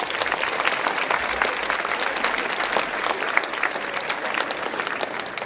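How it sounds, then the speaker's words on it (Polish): Audience applause at a sports awards gala for athletes and coaches, a dense continuous patter of many hands clapping that holds steady and fairly loud for several seconds. "Brawa dla zawodników i trenerów."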